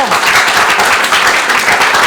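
Loud, dense audience applause fills a short stretch on a televised prime-time show, greeting contestants after their presentation, with voices blending into the clapping.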